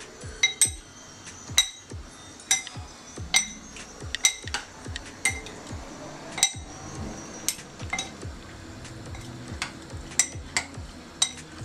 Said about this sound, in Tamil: ரெண்டு பக்கமும் வச்சு குழைக்காமல் இந்த மாதிரி நல்லா ரெண்டு கரண்டி வச்சு நல்லா அப்படி குலுக்கி குலுக்கி விடுங்க